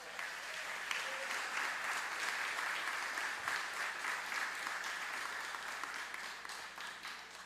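A church congregation applauds continuously, a dense, steady wash of clapping from many hands that holds throughout.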